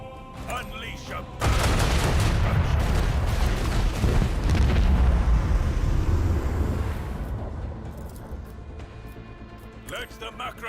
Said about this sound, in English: let the macro cannons sing their deadly litany